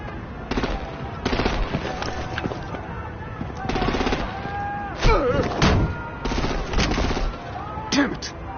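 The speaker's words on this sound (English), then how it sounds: "Break out the artillery and disable their vehicles!" Video game combat with rapid artillery and gunfire, dense overlapping booms and bursts under shouted voices and music, loud and continuous.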